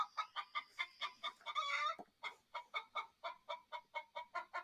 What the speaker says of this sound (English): I've got my phone ready to play some chicken noises here